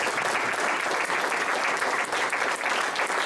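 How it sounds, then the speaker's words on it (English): An audience at a panel event for the 2nd anniversary of an Oregon CCO claps for the panelists, a dense, steady round of applause filling the room throughout with no voices on top. "Please give them a nice round of applause."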